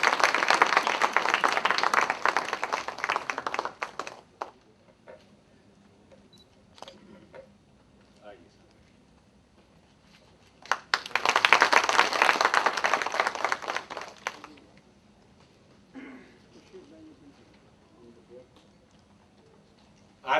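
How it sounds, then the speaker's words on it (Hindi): An audience claps to welcome a guest onto the stage at a formal gathering, with two dense bursts of applause several seconds apart and quieter gaps between them. "हम तालियों से स्वागत करेंगे।"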